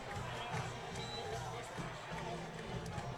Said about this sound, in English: And a roar of relief, I think, from the Lake Central crowd